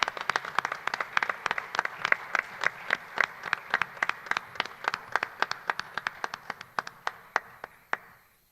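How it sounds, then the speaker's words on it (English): A sparse audience at a San Gabriel city council meeting applauds the newest council member, with sharp, distinct handclaps in a quick irregular rhythm that carry on for about eight seconds before tapering off. "So please join me in applauding our newest council member."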